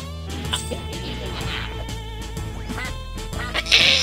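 Cartoonish ducks quack repeatedly in a video game, the calls sitting among busy game music and sound effects at a steady, close level.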